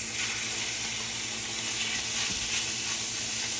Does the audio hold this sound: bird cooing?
no